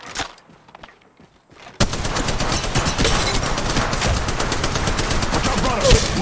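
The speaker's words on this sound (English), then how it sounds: "Shots fired at me." Dense, continuous gunfire in the Apex Legends Mobile game, with rapid automatic bursts bursting in loud after a quiet opening and sustained close-up to the end.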